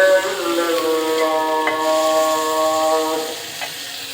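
Food frying in a pan makes a steady, close sizzling hiss with a faint whistling undertone, holding evenly for several seconds with no one speaking.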